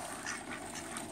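Duck at a tiny zoo quacking in a steady run of nasal calls, close and fairly clear, with no talking during the burst.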